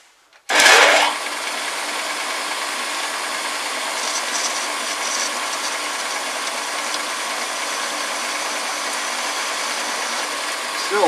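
A homemade lathe parts off metal with a factory-made cutting tool, giving a steady, continuous mechanical whirring and grinding that starts abruptly and holds evenly at close range, with no voices.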